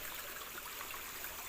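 Water of a small creek curving in an S-bend and striking the bank, a continuous bright rushing flow heard up close and steady, with no voices.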